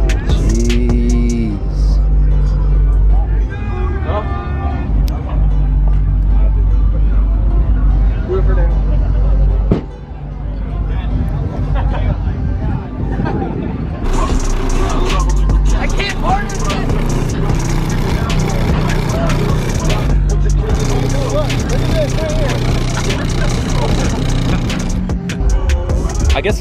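A truck revs hard at a truck meet, engine roaring and straining in a failed burnout attempt, loud and sustained with crowd chatter and other vehicles around.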